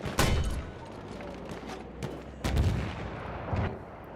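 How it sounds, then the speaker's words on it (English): Mortar fire in Battlefield 6 multiplayer, with several loud, booming launches and impacts spaced a second or two apart, each followed by a rumbling tail. "I love my mortars"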